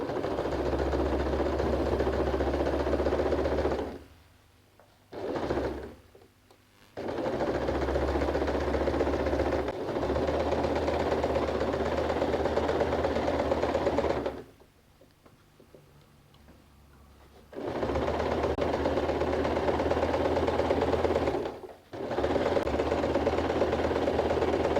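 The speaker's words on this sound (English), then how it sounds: "go ahead and sew on both sides of the gusset" A sewing machine stitches the gusset of a denim bag made from old jeans, running in steady bursts of rapid, even stitching with short pauses between runs. The sound is close and clear, with no talking.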